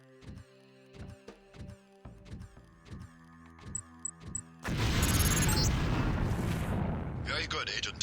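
In the game Deus Ex, a LAM explosive detonates with a sudden loud, sustained roaring blast that fades slowly, after a run of rhythmic tonal electronic pulses.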